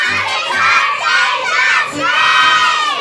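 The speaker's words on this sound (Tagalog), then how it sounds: "Sigaw niyo naman, happy birthday, Jasmine!" A crowd of children at a birthday celebration loudly shouts a birthday greeting in unison, in two or three energetic bursts of overlapping young voices.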